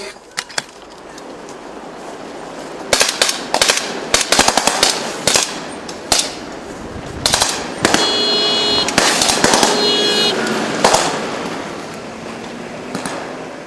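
Bursts of simulated gunfire crackle during an army training exercise on enemy attack at Fort Dix, New Jersey, sharp pops and rapid strings of shots scattered across the scene at moderate distance, with no talk.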